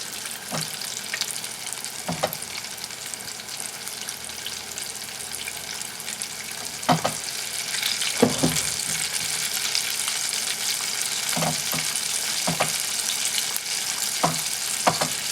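Frog legs fry in a pan with a continuous hissing sizzle, broken by sharp pops and occasional clattering knocks at close range.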